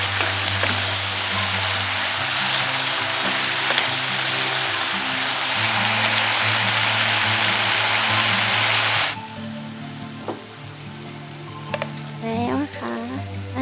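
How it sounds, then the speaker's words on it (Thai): Pork stir-frying with fermented fish sauce and sweet peppers in a pan, a loud steady sizzle for several seconds that suddenly drops to quieter crackling with a few clinks of a utensil and faint talk. "ผัดเรื่อยๆค่ะผัด"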